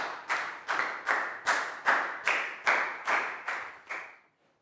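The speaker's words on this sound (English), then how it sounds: "High five and a big round of applause for Ned, guys" Pupils in a classroom clap in unison, about eleven sharp, evenly spaced claps in a steady beat that stop abruptly near the end, fairly faint overall.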